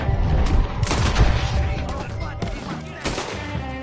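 A gunfight in Red Dead Redemption 2, with loud, rapid volleys of gunshots and booming reports packed close together, a slight lull partway through, and voices talking beneath the shooting.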